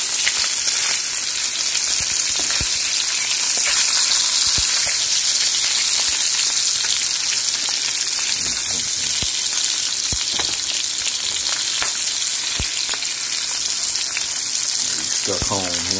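Spam frying in a pan for breakfast, a loud, dense, continuous sizzle with scattered pops and crackles, close up, with faint voices underneath at times.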